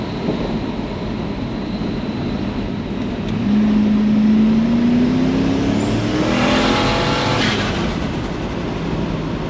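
A ute with a small rear-mounted turbo and a good converter accelerates hard through the gears, its engine rising in pitch, dropping at each shift, then climbing again under a steady roar.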